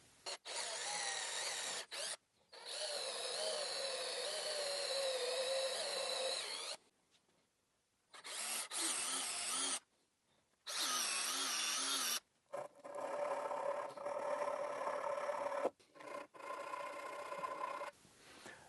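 A drill bores dowel holes in walnut and cherry in several loud, close bursts of high whining, separated by short silent pauses, with the pitch sagging as the bit bites into the wood.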